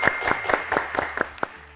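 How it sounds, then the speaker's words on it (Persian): Brief burst of audience clapping on an Afghan quiz show, a handful of sharp hand claps in a loose rhythm over a studio room tone, with no talk. "تشویق کنین سردار محمد جان را"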